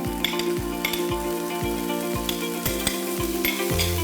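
Carrots frying with onions in vegetable oil give a steady close sizzle, punctuated by regular rhythmic stirring knocks against the pan, with no talk.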